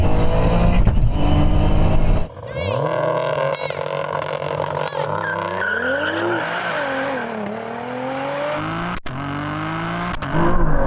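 A 600hp GR Yaris in a drag race against a Nismo R35 GTR accelerates hard, its engine rising through gears with loud tire-spinning squeal, heard up close from inside the car.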